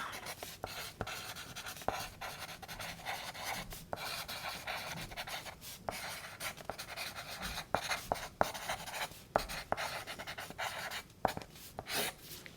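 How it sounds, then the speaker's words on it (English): A pen scratches notes onto paper in a quiet setting, close and soft, with irregular strokes and short taps repeating steadily and no one talking. "Let me just write this down."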